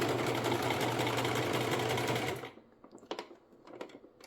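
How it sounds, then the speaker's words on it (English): A domestic sewing machine runs steadily and loud while stitching scrap fabric for a small lip-balm holder, then stops abruptly, leaving a few faint clicks and handling noises. "you give your sewing machine some gas because you're going to need to get over that hump"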